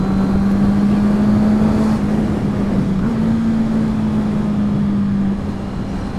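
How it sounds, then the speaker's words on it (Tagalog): A motorcycle with an underbelly exhaust idles in a steady, low, bassy drone for several seconds, with a slight dip in pitch midway and no voices. "para marinig nyo rin yung sounds ng exhaust"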